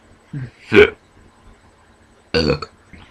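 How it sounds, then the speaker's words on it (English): Two short, loud burps a couple of seconds apart, each followed by a small gulping sound, close to the listener. "Soda making me burp!"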